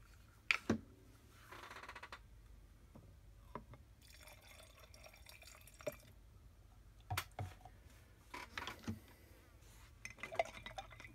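Liquid being stirred in a glass container during plastic testing, with faint clinks, drips and sloshes in scattered bursts, quiet and close, no talking.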